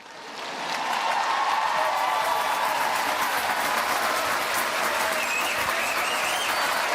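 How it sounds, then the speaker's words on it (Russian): Steady, sustained applause from an audience at a show-program tournament, swelling within the first second and holding at full strength as a dense, even wash of clapping. "Аплодисменты."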